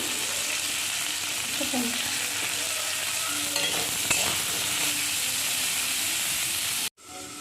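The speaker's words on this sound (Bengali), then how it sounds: "এরপরে ওই তেলেতেই এঁচড়গুলোকে ভেজে হালকা একটু লবণ দিয়ে দেবো" Steady loud frying sizzle of jackfruit in hot oil, with occasional stirring scrapes, continuing throughout before cutting off briefly near the end.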